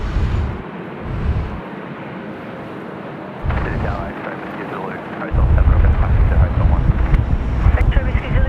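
Strong gusty wind buffets the microphone at Sydney Airport, roaring in loud uneven surges that swell louder toward the end, with a voice faintly under the rumble.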